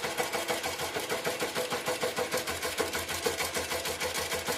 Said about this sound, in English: we're just going to go ahead and sew a pattern